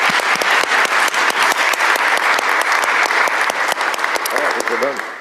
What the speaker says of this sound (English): If we could give our panel a round of applause.